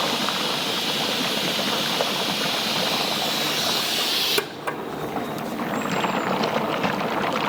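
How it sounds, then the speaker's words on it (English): CO2 gas bubbling and rumbling through a batch of spruce-tip saison beer during brewing, a steady broadband hiss and churn that drops off abruptly partway through, then resumes more softly. "You can hear it bubbling away in there."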